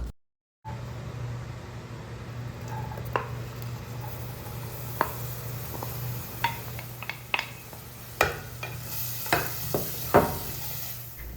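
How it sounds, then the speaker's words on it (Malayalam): Chopped onions sautéing in hot sunflower oil for chicken samosa filling: a low steady sizzle with scattered sharp clicks and scrapes of a spoon against the pan, growing busier toward the end. "ഇനി നമുക്ക് സവാള ഒന്ന് വഴറ്റിയെടുക്കണം"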